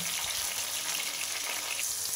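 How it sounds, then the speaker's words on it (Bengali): Pressed slices of pointed gourd sizzle and crackle steadily in hot oil in a pan, a close, continuous frying hiss with no voices. "দিয়ে এবার আর কিছুক্ষণ ভেজে তারপর এটিকে তুলে নেব।"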